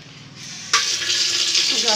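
Water running from a bathroom tap into a bucket, starting quietly and then gushing strongly in a steady close rush, with a voice speaking over it.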